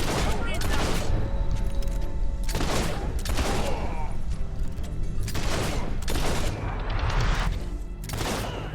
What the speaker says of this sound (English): Stop him from shooting that!